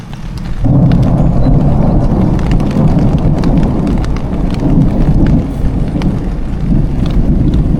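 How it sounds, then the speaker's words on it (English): Thunder rumbles and steady heavy rain fill a riverside hammock camp during a thunder and lightning storm, a loud, continuous low roar with no one speaking. "Hammock in a thunder and lightning storm."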